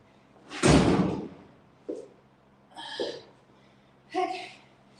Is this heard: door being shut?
yes